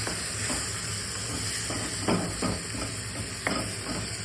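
Taro pieces stirred through masala in a pan, a soft steady sizzle with a few scraping strokes of the spoon at intervals, close by and fairly quiet, no voices.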